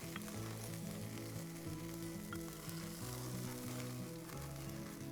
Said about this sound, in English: And I'll baste them slowly because they enjoy this lovely basting.